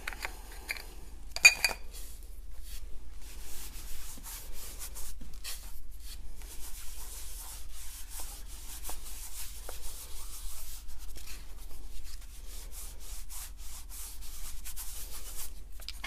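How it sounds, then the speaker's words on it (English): Ink rubbed and pressed into a cardstock base by hand for cardmaking, a faint, close, continuous dry scratching and rubbing with a sharper tap early on and no voices. "you're rubbing it and pressing it into the cardstock base itself"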